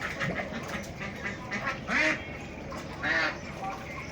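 Peking ducks raised for meat on a farm near Ashulia, Dhaka, quack in a flock, with two loud nasal quacks standing out over steady, softer quacking and faint background murmur.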